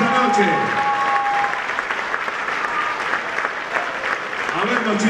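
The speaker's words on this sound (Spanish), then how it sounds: "Nos despedimos con un nuevo y fortísimo aplauso a todos los artistas que participaron de esta noche." A theatre audience gives loud, sustained applause to the Juan D'Arienzo tango orchestra at the Florencio Sánchez theatre, dense clapping throughout with voices and a brief tone over it at the start and end.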